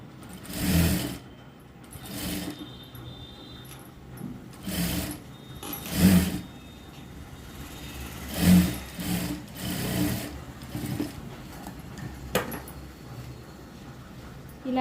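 Sewing machine stitching a prince-cut blouse in repeated short bursts of rapid mechanical whirring, separated by quiet pauses, close to the microphone.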